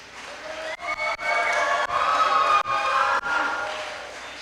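A church audience at a Baptist light concert in Boston cheers and claps steadily, with a broad crowd roar filling the room in continuous waves and a few brief dips.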